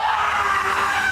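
A person screams in a sustained, loud, strained cry that holds steady for about a second, alone with no talk over it.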